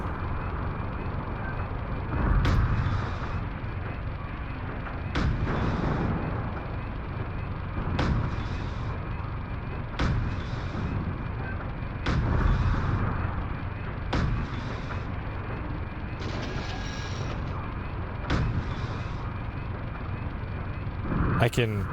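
Mech cannon fire in the video game Steel Battalion, heavy booming shots repeating every two to three seconds, nearly ten in all, over a rumbling background with a player talking throughout.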